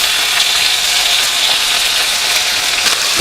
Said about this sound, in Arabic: نشوح بقى ايه السجق كده.